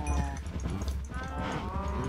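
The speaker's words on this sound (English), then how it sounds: "many cows that are just like totally smashed in together here" Cattle crowded together in the video game Medieval Total War, giving several overlapping drawn-out moos, one close and deep at the start and more moos following over a steady low background rumble.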